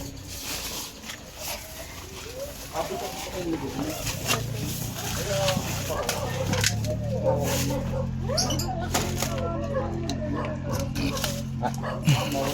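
Several dogs bark on and off near a house backed by woods, mixed with birds cooing and people talking throughout.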